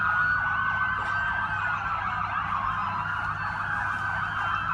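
Wailing police sirens sound continuously on the streets of Abu Dhabi after a gas explosion, loud and steady, with the rising and falling tones overlapping and no talk over them.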